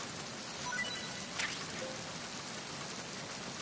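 Steady rain falls in the video game Metal Gear Solid 2, a constant even hiss of drops with no voices over it.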